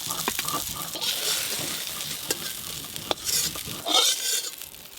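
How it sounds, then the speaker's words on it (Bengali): Eggplant pieces fry lightly in oil, a soft steady sizzle with a few scraping stirs and clinks as they are turned and lifted from the pan. "বেগুনগুলো হালকা করে ভেজে নিয়েছি,"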